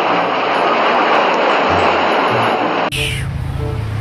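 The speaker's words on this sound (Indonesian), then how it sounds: "lihat, ada pesawat terbang penumpang" A loud, steady roar of a toy Boeing 737 passenger airplane's engine fills the air, then cuts abruptly to a quieter, lower rumble.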